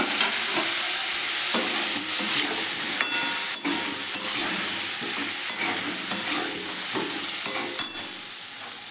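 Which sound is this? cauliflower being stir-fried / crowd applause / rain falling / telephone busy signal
cauliflower being stir-fried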